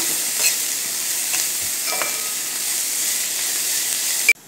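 Sliced onions with salt sauté in a pan, a steady close sizzling hiss with a few soft spoon taps and scrapes, continuous and fairly loud until a sharp clack near the end, no voices.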